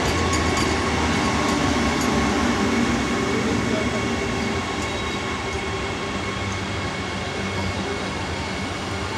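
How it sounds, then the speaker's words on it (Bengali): A Vande Bharat Express train slows on its way into platform 3, its steady loud rolling rumble and wheel clatter heard from on board, with voices murmuring in the background. "ট্রেন এখন স্লো হচ্ছে, 3 নম্বর প্ল্যাটফর্মে দাঁড়াবে।"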